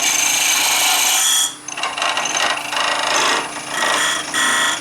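A hook tool's bar rubs against the side of a wooden bowl turning on a lathe, giving a loud, harsh, continuous scraping that dips briefly and repeatedly as the cut eases.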